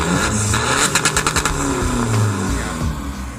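Close, loud remapped 1.9-litre pickup engine blips several times in quick succession through a raspy BIS aftermarket exhaust, then settles into a rumbling roar.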